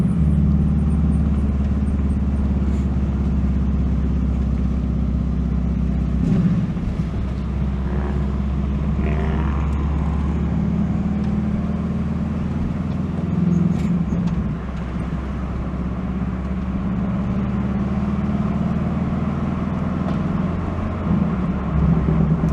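A car rolls slowly through a road construction zone during a repaving project, a steady low engine and road drone heard from inside, with faint wind noise from a nose-mounted microphone and small passing bumps.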